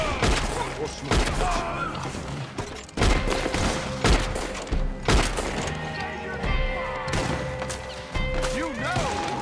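Gunfire in Red Dead Redemption 2 Online during a raid to torch a place: a steady stream of loud, close shots and booming blasts, tightly spaced and overlapping, with no talking.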